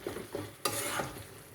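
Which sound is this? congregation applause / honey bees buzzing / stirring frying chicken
stirring frying chicken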